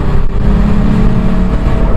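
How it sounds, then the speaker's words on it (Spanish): A BMW E36 fitted with a big turbo pulls hard at full throttle, a loud continuous engine roar with steady rising tone and turbo rush, up close and without talk. "Vamos a pisarle un poquito, este coche ya estamos a fondo ahora mismo y vamos a ver cómo sopla el turbo"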